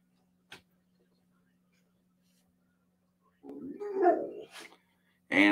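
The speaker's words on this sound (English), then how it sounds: "And the dog is getting restless." A restless dog barks and whimpers nearby during a basketball watch party, a couple of short yelps over a faint steady hum, fairly quiet.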